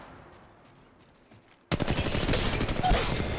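Gunfire in the battle royale shooter Apex Legends, starting abruptly after a quiet stretch as a loud, rapid barrage of automatic shots that continues steadily to the end.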